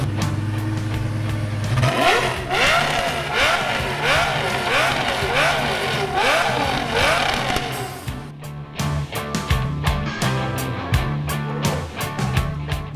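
A Lamborghini Gallardo 5-litre V10 engine with a tuned exhaust idles, then revs up and down repeatedly with rising and falling whines, followed by sharp throttle blips and crackles, close by.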